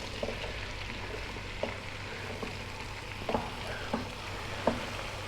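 Sliced onions for classic onion soup sizzle steadily in a pot, a soft continuous frying hiss broken by a few faint clicks and knocks, with no talking.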